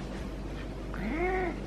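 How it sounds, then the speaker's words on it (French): A cat gives a single short rising meow, close and clear, over a constant low background hum. "Comment ne pas présenter ce chat?"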